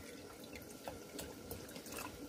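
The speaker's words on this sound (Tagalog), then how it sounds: "Lagyan ko na siya ng tubig." Water pours and splashes into a cooking pot, a soft continuous trickle with small splashy bursts, quiet and close.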